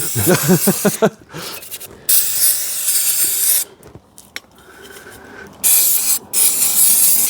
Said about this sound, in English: So give that a clean off with your brake spray.